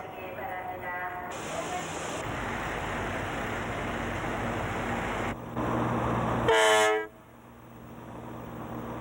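A train horn sounds as the Busan-bound Saemaul train pulls out of Seoul Station at night, a loud sustained blast with a sharper rising toot near the end, over steady rail rumble.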